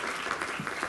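An audience applauds a returning guest at a talk in Taiwan, a brief dense wash of clapping at fairly close range, filling the whole moment without speech.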